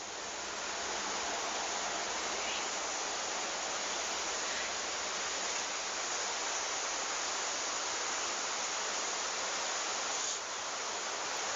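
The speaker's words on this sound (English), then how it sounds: "It sounds like there's a damn waterfall behind him." Steady, loud rushing water like a waterfall fills the whole stretch with a constant broadband roar and no other sound standing out.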